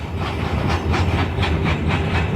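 The world's biggest iron ore train rolls through desert, its wagons giving a steady rhythmic clickety-clack over a constant low rumble and hiss, heard from on board.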